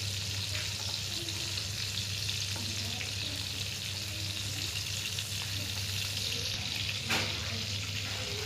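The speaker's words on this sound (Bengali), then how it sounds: "তেল দিয়ে চিংড়ি মাছগুলো ভালোভাবে ভেজে নিতে হবে।" Shrimp sizzling in hot oil in a wok for a Bengali malai curry, an even, crackling fry heard alone and up close, broken by a brief sharper scrape near the end.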